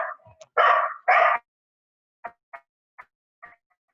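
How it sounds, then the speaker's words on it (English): A dog barks a few times nearby, two loud full barks followed by several short, quieter yips spaced out in the background. "And also there's a dog bark."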